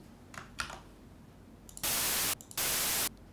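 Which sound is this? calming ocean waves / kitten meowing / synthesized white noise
synthesized white noise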